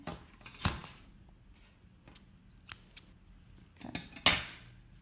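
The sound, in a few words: scissors cutting yarn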